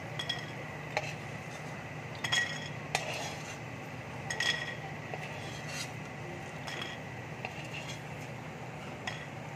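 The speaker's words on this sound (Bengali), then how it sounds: "ভাজা হয়ে গেছে, এবার আমি প্লেটের মধ্যে তুলে নিচ্ছি।" Fried lentil dumplings are lifted out of hot oil onto a plate, giving scattered clinks and scrapes of a metal utensil against pan and dish over a faint, steady sizzle of oil, with no voices.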